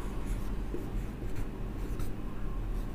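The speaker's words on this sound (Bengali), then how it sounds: "আমি লিখছি" Chalk or marker writing on a board during a chemistry lecture, a steady close scratching and tapping that runs continuously for the whole stretch with no talk over it.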